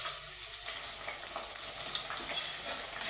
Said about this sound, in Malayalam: പിന്നെ അതിനകത്തോട്ട് ഞാനിനി ഈ കൊച്ചുള്ളി അരിഞ്ഞതിടുവാണ്